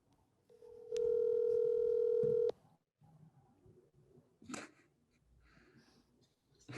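A telephone call being placed: a short tone, then a steady loud dial or ringback tone lasting about a second and a half, followed by soft breathing and faint voices on the line.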